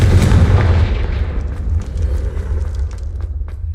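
A Confringo blasting spell exploding in Hogwarts Legacy, a loud booming blast at the start that rolls off into a crackling, rumbling decay with scattered small pops.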